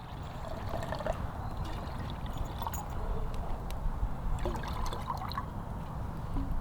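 Water is poured for a dog, with gurgling trickles and splashes over a low rumbling background, moderately close and with no talk.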